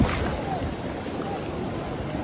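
Big ocean waves roll in at Bokkhali Beach, making a continuous loud roar of surf mixed with wind rush, steady and close for the whole stretch.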